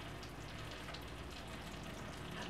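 Cassava arepas stuffed with tuna frying in hot oil, giving a steady, dense sizzle and crackle throughout with no pauses.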